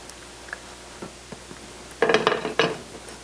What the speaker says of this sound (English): We'll mix that in here until it's well combined.